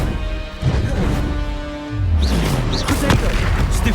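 A Confringo blast spell in Hogwarts Legacy erupting with a heavy crash and booming impact, followed by swooshing fiery streaks and crackles over a loud, sustained rumble of game combat.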